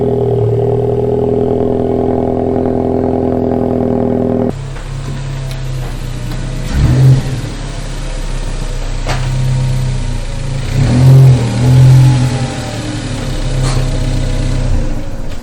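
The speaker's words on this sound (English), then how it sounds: "I'm going to pull the car in the garage" A 2017 Ford Focus ST engine idles, then rumbles and revs gently as the car creeps forward into a garage at close range, with a couple of louder surges of throttle.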